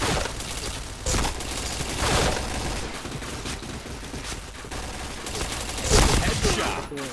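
Rapid bursts of video game gunfire crackle through the whole stretch, loudest in a couple of heavy volleys, with short quiet gaps between shots.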